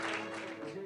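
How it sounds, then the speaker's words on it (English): An audience applauds at a WarCraft III tournament, a short wash of steady clapping heard at a distance in a large hall. "Give him a big round of applause."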